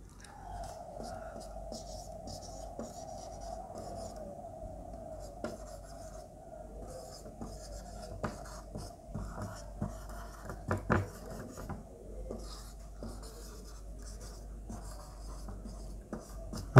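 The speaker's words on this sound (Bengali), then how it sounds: "তো ফার্স্টে কমপ্লেক্সের এক্সাম্পল লিখছি" Chalk or a pen scratches out an example sentence in short, faint strokes and taps, with a steady low hum underneath and no talking.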